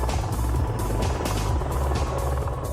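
Osprey tiltrotor aircraft in flight, a loud continuous rotor drone with a rhythmic thumping beat, steady and close throughout.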